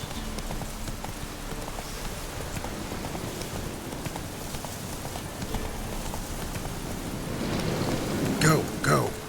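Heavy rain pours in The Witcher 3 with hoofbeats underneath, building toward a sharp crackling thunderclap near the end, loud against the steady downpour.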